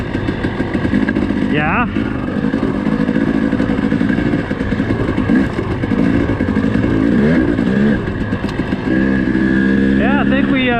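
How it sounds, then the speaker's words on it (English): A dirt bike engine runs out in the desert at Hemmingway Butte, a close, loud droning idle with a few quick revs rising and falling while people talk over it. "Bike's running good though."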